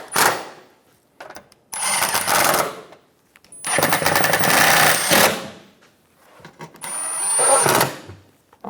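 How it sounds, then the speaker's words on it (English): Bolts are snugged down with a power tool while a skid plate is installed on a 2014-2018 Chevrolet Silverado 1500 5.3L V8, giving three loud rattling bursts separated by short pauses. "Snug the bolts down."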